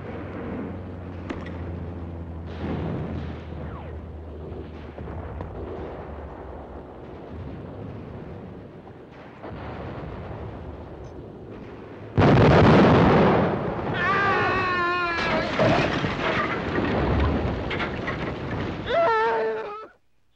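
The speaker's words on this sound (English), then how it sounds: "Blowing up the bridge won the victory for General Timmons' forces" A staged explosion blowing up a bridge in a 1952 comedy film bursts in loudly and roars on for several seconds with crackling debris, following a stretch of mixed film sound.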